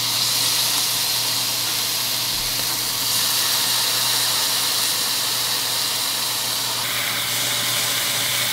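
Kimchi and its juice hitting a hot pan with Spam, producing a loud, continuous close-up hiss of steam and sizzle that holds steady the whole time with no talking.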